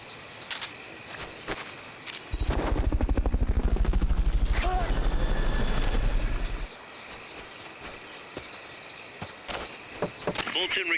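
A helicopter in the game Metal Gear Solid: Peace Walker, a loud rapid rotor thump swelling in and holding for several seconds before cutting off, framed by game effects and clicks.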